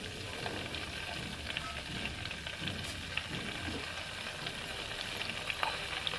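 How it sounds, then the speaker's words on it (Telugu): Ghee heating in a pan as homemade clarified butter is made from cream without boiling milk, sizzling and crackling steadily throughout with occasional stirring scrapes, close and continuous with no talking. "నెయ్యి కాచుకునేటప్పుడు మనం వేరే పనేది పెట్టుకోకూడదు అక్కడే నిల్చొని నెయ్యిని కాచుకోవాలి"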